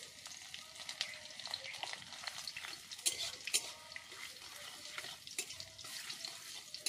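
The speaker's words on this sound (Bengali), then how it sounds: "এবার থেতো করা রসুন ফোড়নের মধ্যে দিয়ে দেব" Crushed garlic hits hot tempering oil with panch phoron, giving a steady, fairly quiet sizzle with soft crackling pops and occasional louder spits throughout.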